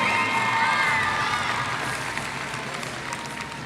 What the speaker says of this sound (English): let's give a big round of applause to honorable mentions for the 3A North girls.